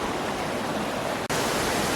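Waterfall in the Scottish Highlands along the NC500 route, a steady, dense roar of falling water heard close up and continuous, with a brief dropout partway through before the rushing resumes.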